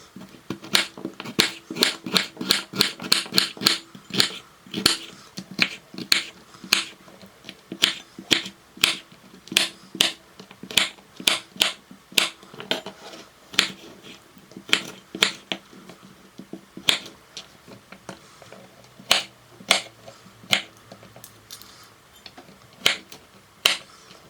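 A knife chopping carrots on a cutting board in a home kitchen, with many sharp, evenly spaced close taps, fast at first and then slowing slightly, heard alone without talk.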